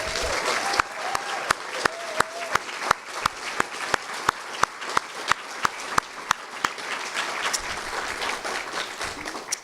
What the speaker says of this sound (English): give a rousing round of applause to these excellent presenters tonight